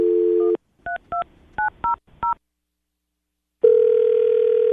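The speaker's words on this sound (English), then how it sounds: "we're going to call her right now" Telephone dialing for a morning radio show call: a steady dial tone, then five short, evenly spaced touch-tone beeps, a pause of silence, and a ringback tone starting, all clear and close with no talking.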